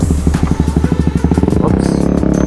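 Honda Rebel 250 motorcycle engine running at night, close and loud, with a steady, rhythmic throb of firing pulses that quickens slightly toward the end.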